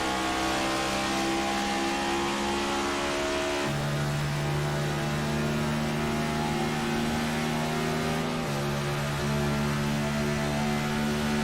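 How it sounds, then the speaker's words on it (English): Race car engine in a racing video game at Pocono, held at steady high revs with throttle blips and gear-like pitch shifts, a loud continuous drone throughout. "you hear him playing with that throttle a ton"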